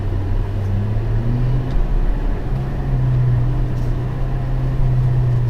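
Interior engine note of a 2021 Aston Martin DBX with AMG V8, 550 horsepower, a steady low hum with a faint rising tonal whine under road rumble while driving.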